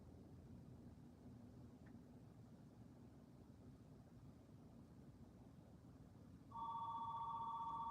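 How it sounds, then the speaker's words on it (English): A telephone rings indoors near a window, its steady electronic trill beginning near the end and sounding loud and close over a constant low background hum. "I'm sorry, the phone is ringing."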